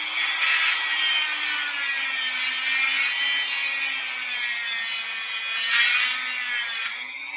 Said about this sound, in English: Now we're going to sharpen the one end of it.